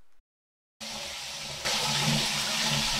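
Water running into a clogged shower drain and starting to back up, a steady loud rush of flow that begins after a brief silence and swells midway, no talking.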